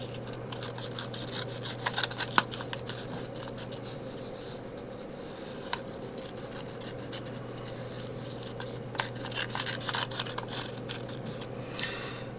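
Scissors fussy cutting small paper elements by hand, with soft irregular snips and rustling paper, close and steady over a constant low hum, with no talk.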